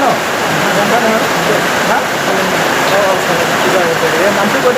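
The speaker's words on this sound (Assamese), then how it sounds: "এতিয়া বৰষুণ দি আছে" Steady rain pours down in a dense, continuous hiss during a Saraswati Puja celebration at a school, with people talking faintly underneath.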